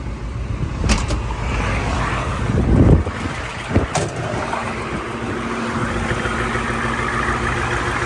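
A Ford F250 engine, just restarted after a catastrophic failure, idles with a steady low rumble close by, with a few louder thumps and knocks early on.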